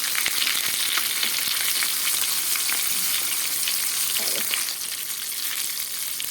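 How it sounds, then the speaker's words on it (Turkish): Onion balls coated in a special sauce fry in hot oil, giving a loud, continuous crackling sizzle with soft turning sounds. "Bu sos bunu çıtır çıtır yapacak iyice nar gibi kızarana kadar bakın yağda sürekli arada çeviriyorum ki her yerine işlesin"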